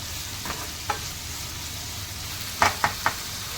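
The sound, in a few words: green masala paste sautéing in oil for prawn curry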